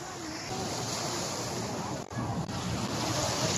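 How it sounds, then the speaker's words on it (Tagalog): Ocean waves wash steadily onto Boracay beach at Station 1, a broad continuous roar of surf with wind noise against the microphone and a brief dip midway. "Ang sarap lang pakinggan yung alon, yung agos ng alon."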